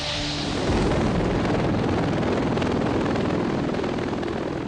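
An Osprey tiltrotor military aircraft flying in helicopter mode gives a loud, steady, close rotor and engine roar that fills the whole stretch without letup.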